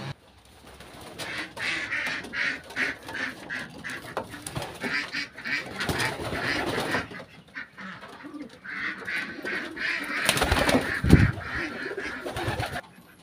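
Pigeons coo and murmur steadily in a pigeon loft, fairly close, with a louder burst of calls and flapping near the end and no clear talk.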